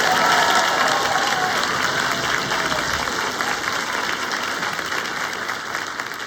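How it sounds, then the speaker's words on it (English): Audience applause at a school winter concert, loud dense clapping filling the hall and tapering slightly toward the end. "Please give them a round of applause."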